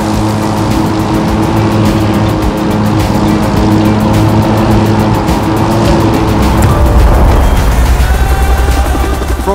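Race car engine in The Crew 2 roaring loud and continuous, with a gritty buzzing tone that rises and surges toward the end.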